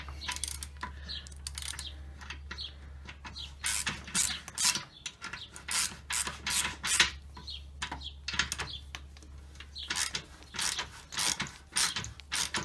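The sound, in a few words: screwing water temperature sensor into car radiator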